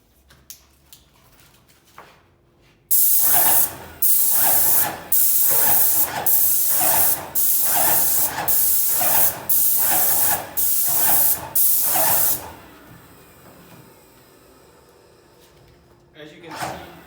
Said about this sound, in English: I'm just going to spray a little bit there so you can see how it works